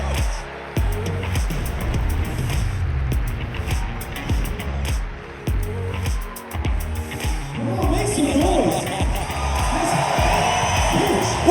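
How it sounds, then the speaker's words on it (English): Crowd at the K-LOVE Fan Awards 2021 cheering and whooping for Baylor Bears coach Scott Drew, loud and sustained, swelling toward the end over music and a voice. "a round of applause for Coach Scott Drew"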